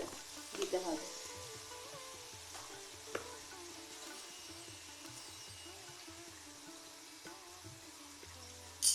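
Jhuri bhaja batter squeezed from a bottle into medium-hot oil, sizzling and frying steadily with a soft crackling bubble throughout, and a few louder pops near the start and end.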